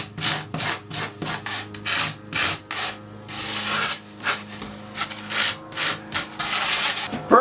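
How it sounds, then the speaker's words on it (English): A drywall rasp shaves and roughs up the edges of a foam gravestone, giving a close, loud series of rapid rasping strokes in bursts with brief pauses between them, and no talking. "I'm now going to shave off some of the edges using the handy dandy drywall rasp, basically cheese grater for foam"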